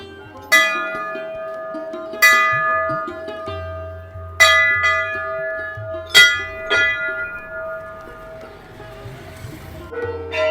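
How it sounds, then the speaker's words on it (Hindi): Temple bells at Chitai Golu temple in Uttarakhand, a hill shrine famed for its many offered bells, ring out in several separate metallic strikes with long shimmering decays, some overlapping, over faint background murmur. "अगर आपने कोई मन्नत मांगी थी भगवान से और वो पूरी हो चुकी है तो आप घंटी चढ़ा सकते हैं भगवान को"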